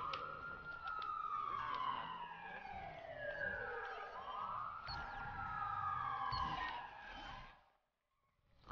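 A police car siren in Watch Dogs 2 wails in long rising and falling sweeps, steady and moderately loud, then cuts off abruptly near the end.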